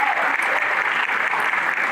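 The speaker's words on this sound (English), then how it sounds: "I want to give them, first of all, a round of applause to them" Sustained applause from an audience honoring the script writers of a play, steady and dense clapping throughout, fairly loud and close, with no voices over it.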